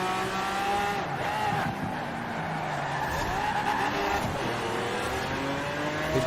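A Cadillac Escalade races in Forza Horizon 4 with its engine droning and rising through the gears while tires squeal and skid under braking, all loud and steady throughout.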